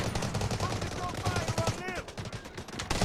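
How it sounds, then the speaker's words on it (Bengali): Rapid machine-gun fire from the Delta Force video game, dense bursts of shots throughout, loud, with voices and game sounds mixed in. "উদয় ফায়ার করলাম"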